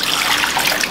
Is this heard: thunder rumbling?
no